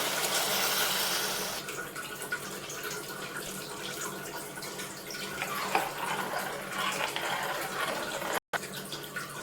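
Water runs and splashes steadily into a cooking pot with rice for pulao, a continuous pouring rush with no talking.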